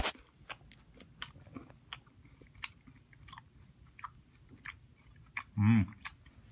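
A mouthful of multi-flavour Warheads sour candies being chewed up close, with soft wet crunches and clicks in an irregular rhythm, ending in a brief muffled hum.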